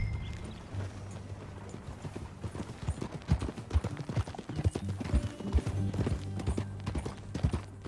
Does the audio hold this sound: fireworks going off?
no